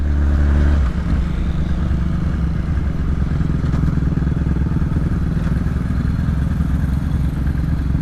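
A Yamaha R6 clutch motorcycle rumbles steadily at low revs while ridden through slow traffic near roadworks, its engine drone loud and close throughout.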